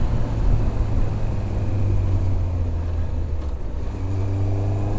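A motorcycle braking to a stop using only its rear drum brake, with a steady engine drone and low rumble of the bike close by, the engine note dipping midway and holding level again without any voices.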